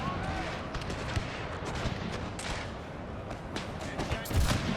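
Musket volleys and cannon fire from a Thirty Years' War battle in the Total War strategy game: dense, continuous crackling gunfire with heavier booms near the end, under faint voices.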